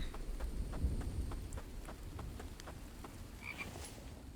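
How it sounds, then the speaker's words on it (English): A frog croaks repeatedly in a steady rhythm within a survival video game. The croaks are faint and distant over a soft ambient background. "And there's also a frog nearby."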